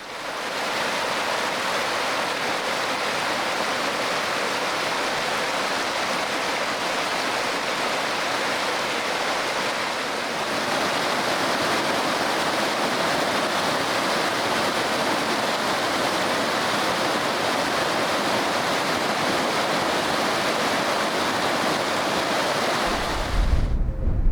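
A blue-green mountain creek, Peru Creek in Colorado, rushes loudly and steadily, a dense unbroken wash of flowing water close by with no voices.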